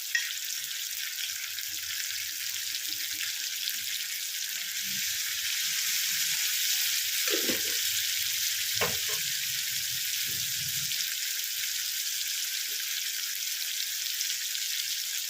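Tomatoes with added salt sizzle steadily in a pan for kabuli chana, a soft continuous frying hiss with a few brief clatters of stirring partway through.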